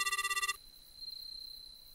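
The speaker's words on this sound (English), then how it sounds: "There's a cell phone. Oh, calling." A cell phone rings inside the Japanese horror game Midnight Prowl: a loud, rapid electronic ringtone of stacked tones lasts about half a second and cuts off, leaving a thin high whine over quiet background.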